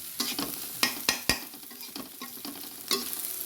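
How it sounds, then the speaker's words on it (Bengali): Dried fish (shutki) frying in a pan: steady crackling sizzle broken by several sharp scraping stirs of a utensil, close and fairly loud, no talking. "শুটকি দিয়ে এখন লাল লাল করে ভেজে নেওয়া হবে"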